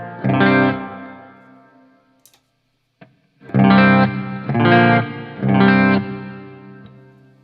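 An electric guitar plays through a Strymon Big Sky pedal on a hall reverb setting: one sustained chord decays into a long tail, then after a pause three loud strummed chords ring out with lush, spacious reverb.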